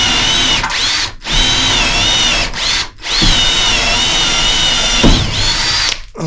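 Power drill driving 3-inch screws into wooden loft guardrail supports, several loud sustained whining runs broken by short pauses.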